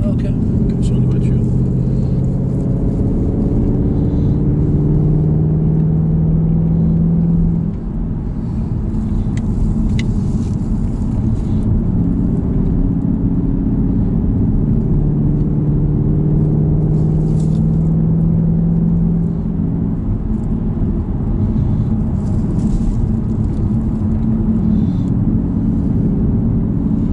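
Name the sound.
car driving on road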